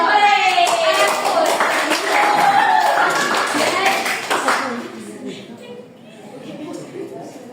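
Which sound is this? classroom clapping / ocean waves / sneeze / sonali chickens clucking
classroom clapping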